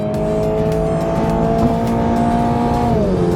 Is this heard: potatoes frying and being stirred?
no